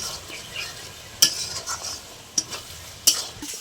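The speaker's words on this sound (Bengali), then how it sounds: "তো ভাজা আলুটা দিয়ে দিচ্ছি, এর সঙ্গে কষিয়ে নেব।" Fried potatoes are stirred into a sizzling spinach and coriander paste masala in a pan for a palak chicken dish, with a steady frying hiss and three sharp spatula clacks against the pan.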